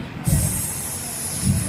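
A voice imitates a snake hissing during a storytelling session, a sustained, airy high hiss held steadily for over a second, close and fairly loud with faint low breathy bumps.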